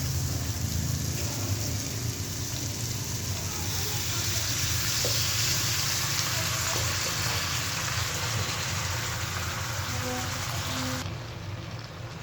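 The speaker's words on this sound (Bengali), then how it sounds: "এখন করে নেব আলু ভাজি।" Potatoes for aloo bhaji fry in a pan with a steady, dense sizzle like light rain that holds throughout, then drops slightly near the end.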